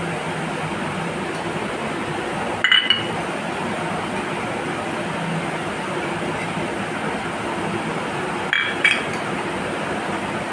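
Boiled eggs scooped up with a metal spoon give two short clinks, a few seconds apart, over a steady background hiss of a home kitchen.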